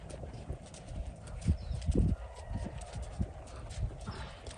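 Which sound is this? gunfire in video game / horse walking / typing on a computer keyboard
horse walking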